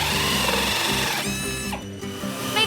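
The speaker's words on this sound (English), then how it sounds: "Can you hear the sound of the drill making the plug hole?" A power drill bores the plug hole through a bath during manufacture, whirring loudly and close with a shifting pitch, briefly dropping away and then starting up again near the end.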